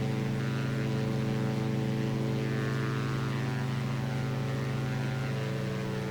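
Propeller aircraft engine held at 2200 RPM in X-Plane 11, a steady, loud, close droning hum with layered tones and no pauses or voices.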